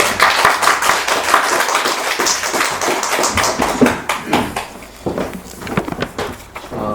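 A church congregation in Korea applauds to welcome a pastor to the pulpit for a sermon: loud, dense clapping from many hands filling the room, then tapering off to scattered claps.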